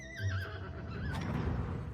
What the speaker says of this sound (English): A majestic horse.